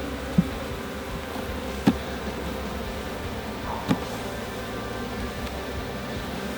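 Honeybees buzz in a steady, dense drone around an open hive during an inspection, close and continuous, with a few sharp knocks of frames being handled.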